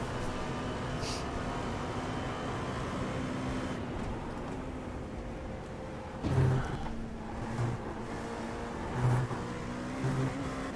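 An LMP2 prototype race car's engine in iRacing drones steadily, dipping and climbing in pitch through shifts and corners, with a few short bumps and thuds over the continuous loud hum.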